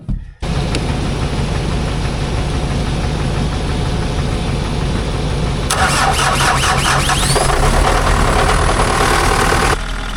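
Farm machine engine cranks and catches, then runs loud and steady close by, with a squealing, noisy belt rising over the rumble later on.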